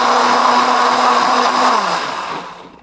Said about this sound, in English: And on our blender